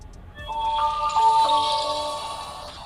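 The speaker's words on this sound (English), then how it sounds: "Now the first thing I noticed is a new startup animation and sound." Redmi K20 running MIUI 12.5 plays its startup sound, a short bright chime of layered bell-like tones that swells and fades over a few seconds, alone and fairly quiet.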